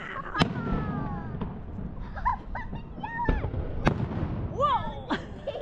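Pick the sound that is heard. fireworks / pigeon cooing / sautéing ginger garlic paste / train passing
fireworks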